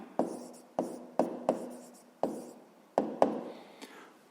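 Handwriting of a math inequality: a pen or chalk taps and scratches close by in short separate strokes, about seven quick marks with brief pauses between, quiet and free of talk.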